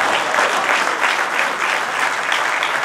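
An audience at a 2023 mushaira poetry recital in Patiala claps continuously, a dense, even wash of applause at moderate volume with no voices over it.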